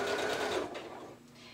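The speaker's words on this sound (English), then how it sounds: "line up the edge of the fabric with the edge of the foot, and do some sewing" A sewing machine runs steadily while stitching along the edge of fabric for a headband, a continuous close whirring hum that eases off slightly near the end.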